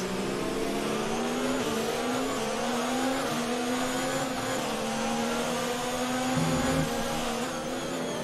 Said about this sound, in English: Hear how early I'm shifting through here, trying to keep the rear tires from spinning.